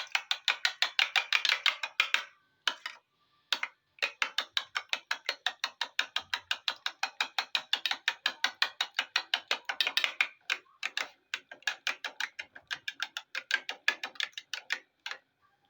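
A hand whisk beats a mixture in a bowl with fast, regular clicking strokes, close and crisp, stopping briefly twice before carrying on, with no talk.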